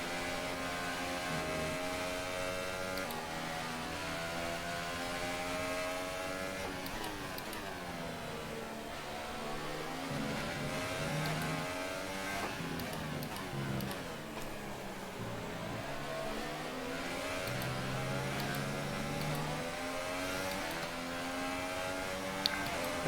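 A Formula 1 car in the F1 2018 racing video game drifts through corners on a wet track, its engine whining quietly and repeatedly sweeping up and down in pitch with each shift and slide.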